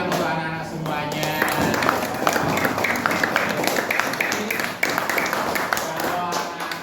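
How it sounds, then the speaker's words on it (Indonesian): Children clap together in a classroom lesson, a steady patter of many small hands at moderate level, with a voice briefly heard near the start. "tepuk tangan untuk anak-anak semuanya"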